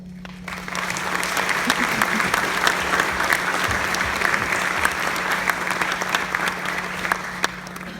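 Sustained audience applause greeting a commencement speaker at a Millikin University MBA graduation ceremony, steady dense clapping from a large crowd filling the hall throughout, with a low steady hum underneath.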